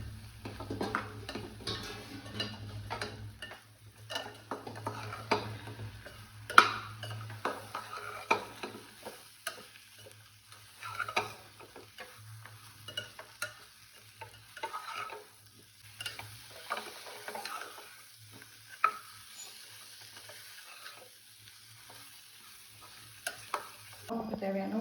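Cut radish sticks tossed and stirred in a hot frying pan for a dry fish curry: steady sizzle with irregular scraping and clacking from the stirring spoon, close by and moderately loud.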